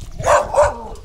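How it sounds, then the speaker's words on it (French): A dog gives two sharp, close barks in quick succession, loud and clear with no voices over them, heard along the Marciac–Maubourguet route. "En fait, les chiens ils aboient, mais ils sont pas méchants,"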